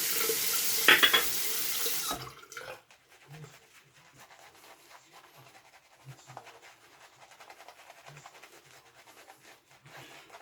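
A bathroom tap runs loudly for about two seconds while a face is wetted for a shave, then shuts off, leaving quiet with faint dripping, small splashes and soft handling sounds.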